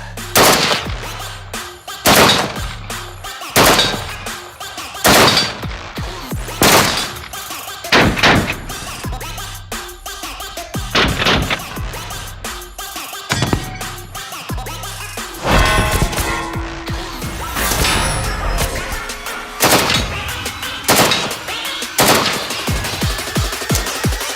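An AK-12 assault rifle fires double-tap shots, sharp, loud reports in quick pairs separated by short pauses, each pair ringing out with some echo.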